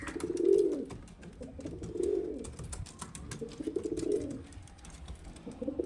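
Kalshira Madrasi Kalduma highflyer pigeons coo close by in deep, rolling phrases, three roughly evenly spaced coos over a faint clicking background.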